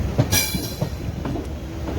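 A train rushes along between Nagercoil and Kanniyakumari in Tamil Nadu, a loud, steady rumble close by with a brief bright burst near the start and faint wheel clatter underneath.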